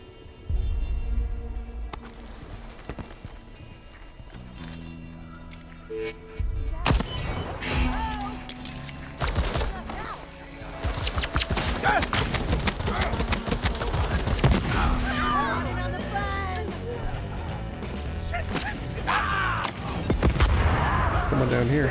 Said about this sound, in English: Who doesn't love a fireworks display?